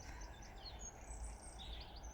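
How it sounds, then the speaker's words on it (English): Small birds chirping and singing outdoors in crisp, cool air, faint and steady beneath a soft constant background hum, with no voices present. "The peace in my heart as I listen to the birds sing."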